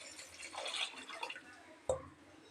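Water is poured into a pressure cooker holding mutton pieces with rock salt and ginger-garlic paste for a Salem-style mutton gravy: faint, brief splashing and trickling, then a single sharper clunk near the end.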